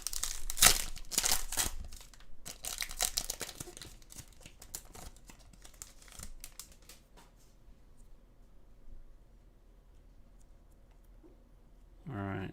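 A foil trading card pack for AFL footy cards being torn open and handled, loud crinkling and ripping at the start that fades to quieter rustling, then a sharp crinkle at the very end.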